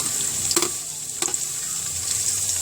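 Ginger-garlic paste sizzles and spatters steadily in a hot pan, a bright crackling hiss with a couple of soft scraping stirs.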